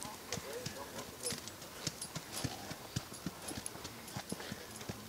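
Horse hooves clip-clop steadily on a hard trail, a quick irregular rhythm of close, sharp knocks under faint background voices.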